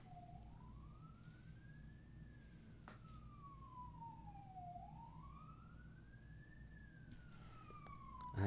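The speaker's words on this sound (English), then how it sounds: "Wait for the fire truck to finish leaving." A fire truck siren wails in slow rising and falling sweeps as the truck pulls away, faint and distant over a low steady rumble, with no one talking.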